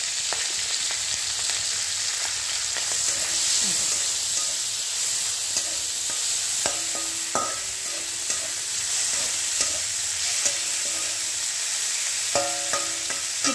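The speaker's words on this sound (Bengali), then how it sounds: "চিংড়ি মাছটা আগে আমি ভেজে নিচ্ছি একটু হালকা ভেজে" Steady sizzling of prawns frying in hot oil, a continuous crackling hiss with occasional sharper pops and stirring clatter, close and fairly loud throughout.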